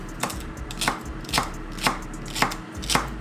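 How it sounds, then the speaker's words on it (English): Knife chopping celery on a cutting board, six crisp evenly spaced chops over a low steady background hum, fairly quiet and close. "Just chop them up a little bit."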